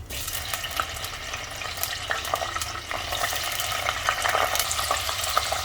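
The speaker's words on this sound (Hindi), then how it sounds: "तेल हमारा गर्म हो चुका है, इसमें हम डाल देंगे फूल गोभी।" Cauliflower florets sizzling steadily in hot oil in a pan for a Hindi-style phool gobhi sabzi, a dense continuous crackle and hiss with occasional stirring scrapes, close and moderately loud with no talk.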